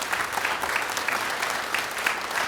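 An audience applauds at the close of a church sermon or lecture, a steady wash of clapping that holds at an even level for its whole length, with no voices rising above it.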